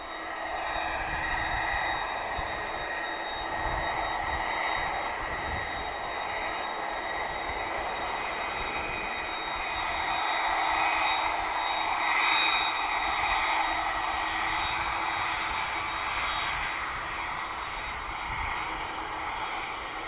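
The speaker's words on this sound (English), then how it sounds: "So first heavy departure of today, guys. Let's listen to this." A heavy jet airliner departs from Lisbon Airport, its engines producing a sustained roar with a steady tonal whine that swells gently toward the middle and holds at a distance.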